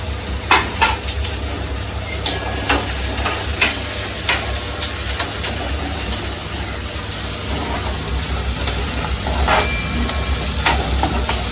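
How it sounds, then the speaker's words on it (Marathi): A large chopped onion sautés with cumin in a pan, giving a steady sizzle broken by sharp, irregular clicks and scrapes from the spatula against the pan. "कांदा आपला झाला आहे परतून."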